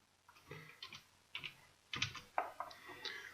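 Keys clatter on a computer keyboard in a few short bursts of quiet, close taps with small gaps between them.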